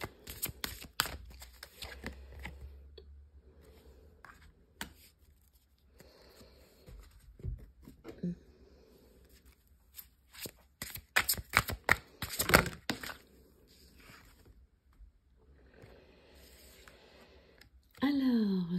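Oracle cards are shuffled and drawn in soft, irregular bursts of papery flicks and taps, close and quiet, with brief pauses between handling and a voice talking faintly at times.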